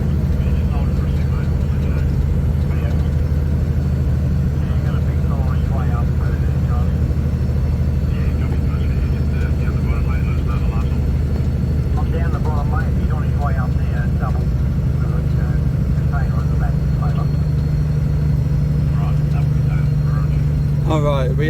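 Road train truck engine on a mountain descent in Australia, a heavy continuous low rumble that holds steady and rises slightly near the end, with someone talking over it.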